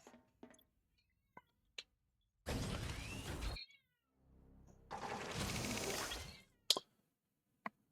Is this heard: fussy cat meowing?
yes